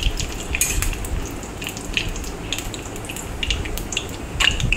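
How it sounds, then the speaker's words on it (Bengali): Dried red chili, torn bay leaves and whole cumin sizzle steadily in hot oil in a wok, with crackling pops and light spatula scrapes throughout. "কড়াইয়ে একটা শুকনো লঙ্কা ফোড়ন দিয়ে দিলাম, তেজপাতা দিয়ে দিলাম"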